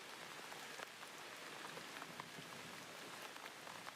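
Steady drizzling rain, a gentle continuous patter of fine drops on surfaces, quiet and even with small ticks scattered through it and no talking.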